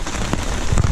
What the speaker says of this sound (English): So it's raining a little bit.